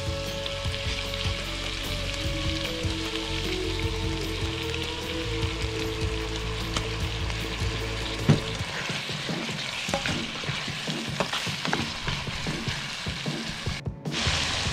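Soy sauce hitting a hot pan of spicy tuna belly sisig cooked outdoors, a loud dense sizzle and crackle that runs steadily throughout, with stirring scrapes and spatters in the second half.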